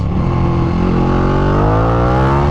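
A Ducati Panigale engine revs loud and close, its pitch climbing steadily through a continuous throttle pull with no talking.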